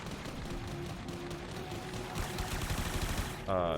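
Rapid automatic fire from the Supra machine gun in the Warframe PC game, a dense continuous rattle of shots at steady loudness lasting several seconds, ending in a brief whirring tone.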